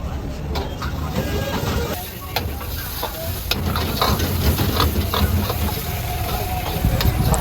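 A cheese chilli tadka sizzles loudly on a fast-food stall's hot pan, with metal spatula scrapes and clicks cutting through the continuous frying hiss.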